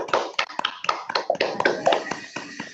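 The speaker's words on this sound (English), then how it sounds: "Shall we go give a huge round of applause for Riya?" Applause for Riya over a video call: a brief burst of scattered hand claps and taps from several participants, uneven and somewhat thin, with a faint voice underneath.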